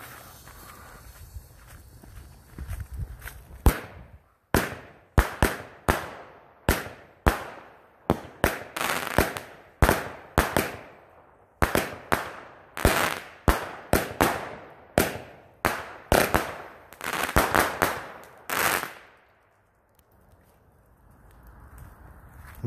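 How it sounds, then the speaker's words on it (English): A Legend Time Bomb 16-shot firework cake goes off outdoors, a rapid run of sharp, loud cracking bursts in uneven rhythm, each with a brief decaying tail, before silence returns. "16 shot legend time bomb, baby."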